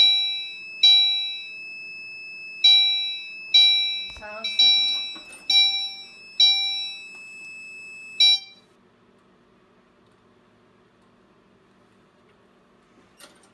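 A Fire-Lite MS-4 fire alarm system sounds during a smoke detector test with a canned tester, giving loud repeated electronic beeping tones in bursts with a brief clatter midway, then stopping abruptly into near silence.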